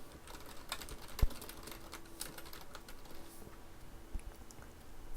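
A title is typed on a computer keyboard while building a PowerPoint slide, heard as quiet, sparse keystrokes with a couple of sharper taps and no talking.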